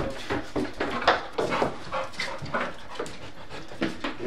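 A dog close by, panting and whimpering in quick, uneven bursts with a few short barks, fairly loud and near throughout.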